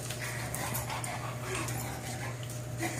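A young Shar Pei puppy pants and whimpers nearby, a soft, continuous breathy sound over a steady low hum, with no talking.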